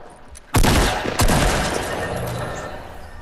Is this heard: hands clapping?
no